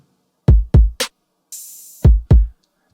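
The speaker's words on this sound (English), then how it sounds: "And so that kick cuts off the open hat in that instance." A produced beat: boomy kick drums thump in pairs around a short snare-like hit, while a sustained open hi-hat hisses until a kick abruptly cuts it off, loud and isolated.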